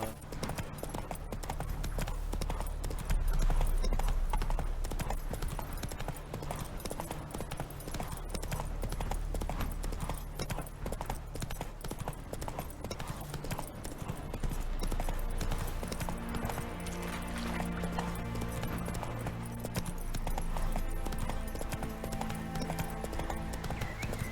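Horse hooves clip-clop at a gallop in The Witcher 3 on console, a continuous rapid drumming of hoofbeats with an occasional whinny, steady and moderately loud under game music.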